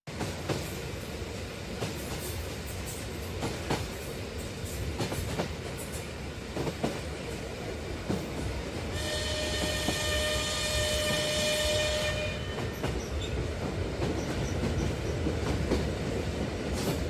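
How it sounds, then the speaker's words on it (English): Train rolling past with steady rumble and faint clickety-clack of wheels on rails, a sustained high whine or squeal rising in the middle, continuous and moderately close throughout with no talking. "T for train."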